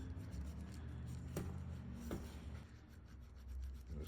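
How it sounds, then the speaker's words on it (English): Paint roller worked over a patent leather sneaker in thin one-direction coats, a close, continuous soft rubbing and rasping texture with a few brief scuffs, quiet and without talk. "now you're ready to start rolling it onto the sneaker"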